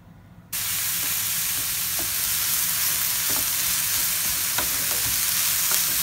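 Finely chopped butterbur stalks sizzle steadily in hot sesame oil for fuki miso, a loud continuous crackling fry that bursts in after a brief quiet moment, with scattered spatula scrapes and taps against the pan.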